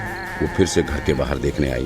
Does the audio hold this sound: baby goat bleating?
yes